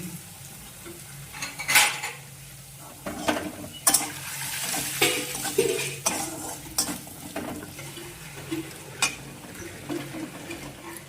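Spice paste of turmeric, chilli powder, salt and tomato paste fries in a pan, giving a soft continuous sizzle broken by repeated scraping and clinking strokes of a metal spoon, several sharp and loud, with no talking.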